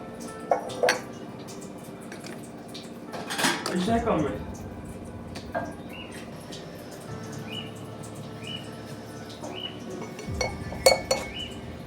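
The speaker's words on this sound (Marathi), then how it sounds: "आता बरणीत भरूया आपण" Clinks and scrapes of a utensil against a glass jar as green chilli pickle is spooned in, with a few louder knocks and steady background hum.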